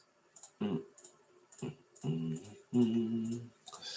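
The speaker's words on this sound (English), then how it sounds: "Clicking away." A computer mouse gives a few quiet clicks during a CLO3D jacket design session, heard between bursts of low talk.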